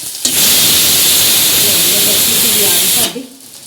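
Onions frying with cumin in a hot pan, a loud steady sizzle that starts abruptly, holds for about three seconds and then drops off sharply.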